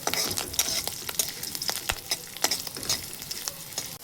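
Dried red chillies and whole spices crackle and spit in hot oil as a tempering for curd rice, with a sharp sizzle and repeated clinks and scrapes of a spatula stirring close by, no talk.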